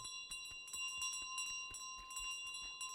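Bell sound effects from Untitled Goose Game ring out in quick, uneven succession as a bell drops onto a pile of bells, each strike a bright metallic ding with a sustained tone, steady and fairly loud throughout.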